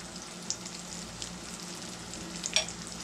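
Cubed pork cutlet frying in oil in a cast iron pan, a steady close sizzle with faint crackles and a brief sharper pop near the end.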